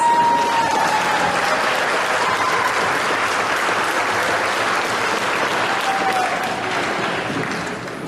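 Steady, loud applause fills an athletic awards ceremony as track and field athletes stand, a broad wash of clapping that holds for several seconds and eases slightly at the close.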